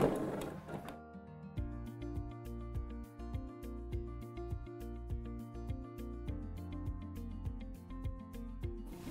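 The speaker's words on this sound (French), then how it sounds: "on va passer à la machine pour effectuer ces 2 lignes de couture" A sewing machine stitching seam lines in fabric, running in a fast, steady mechanical chatter of rapid needle strokes that starts after a brief rustle and continues evenly to the end.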